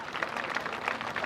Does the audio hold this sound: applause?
yes